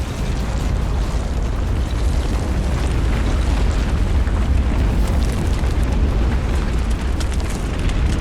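Mount St. Helens volcanic eruption blast, a continuous, loud roaring rumble with dense broadband noise sustained throughout, no pauses or distinct separate bursts.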